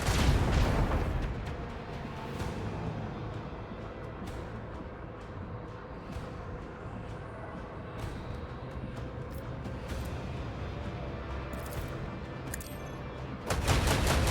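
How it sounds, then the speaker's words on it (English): Macro cannons on a starship firing in the Warhammer 40K game Rogue Trader: a dense, sustained barrage of booming, rumbling shots with steady roar throughout, ending in a louder burst, no talk. "And the macro cannons."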